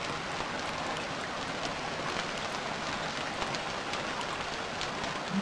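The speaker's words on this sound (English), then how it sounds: "It was raining way too bad." Steady, dense rain in the survival video game Stranded Deep, an even hiss of downpour that holds at the same level throughout, close and loud with no talking.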